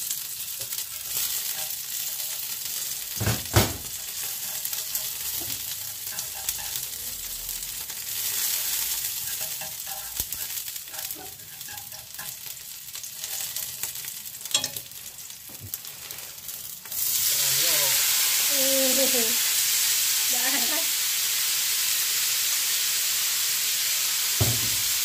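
Pork intestines stir-fried with turmeric in a pan crackle and sizzle loudly and up close, with occasional clanks of the utensil. About two thirds of the way through, the hiss swells into a denser, more even roar.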